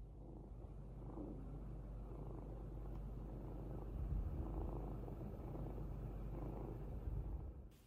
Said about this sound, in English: And at night, the purring came.